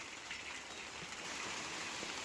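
Light rain starting to fall outdoors gives a steady, soft, even hiss of patter. It is faint and continuous, with no voices.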